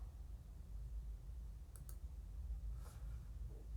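Mouse clicks on a computer, two quick sharp clicks near the middle and another around three seconds, close and crisp over a low steady hum, with no talking.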